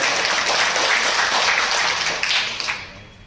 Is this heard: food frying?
no